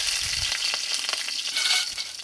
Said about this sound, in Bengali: আর দেবো এখানে হাফ চামচ মতো পাঁচফোড়ন আর এখানে নিচে তিনটে কাঁচা লঙ্কা হাত দিয়ে ভেঙে নিয়েছি আমি দিয়ে দেবো